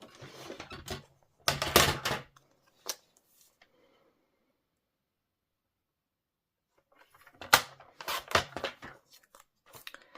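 Paper trimmed into a small rectangle for a Stampin' Up card topper, giving a few quick crisp cuts in two bursts at close range, separated by a long silence, with no talking.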